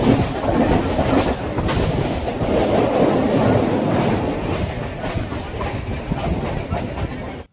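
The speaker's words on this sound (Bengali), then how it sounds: "একদম সঠিক সময় কিন্তু আমাদের ট্রেনটি 9 নম্বর প্ল্যাটফর্ম থেকে রওনা দিল" A local train pulls out of Sealdah station from platform 9, its steady rumble and clickety-clack of wheels on rail joints filling the space close by, continuous and loud throughout.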